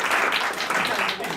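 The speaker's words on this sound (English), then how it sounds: "Last clap for Josh" Audience clapping at a character showcase performance, dense brisk applause filling the whole moment, loud and near, with no voices standing out.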